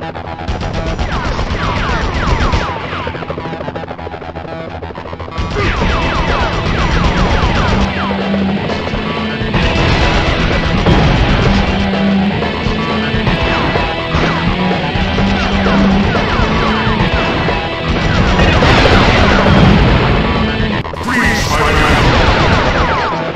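Pumpkin bombs explode in Spider-Man on PS1, with repeated loud booms and crashes over a dense, continuous game soundtrack and action noise.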